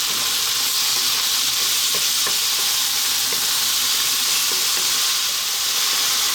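Fresh tomato fries and sizzles in a hot pan for a saag aloo spinach potato curry, with a steady close hiss broken by soft scrapes and clicks as it is stirred. No voices.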